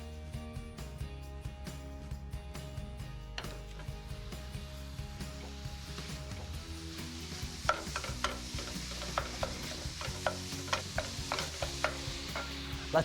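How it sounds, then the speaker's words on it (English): Ground beef frying in a pan with softened shallots, ginger and garlic, a steady sizzle under repeated scraping and stirring clicks from a utensil, close and continuous. "Now let's add in 1 pound of ground beef."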